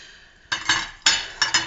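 Chopped tomatoes are mixed with tomato paste and spices, heard as a few close clinks and scrapes of a utensil against a pot or bowl in quick bursts.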